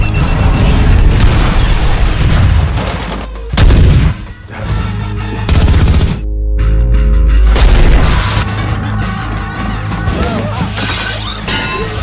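Heavy gunfire and booming explosions tear through an action-film firefight, with shattering crashes and deep blasts, a sharp drop to near silence midway, then a rumbling roar and renewed loud battle noise.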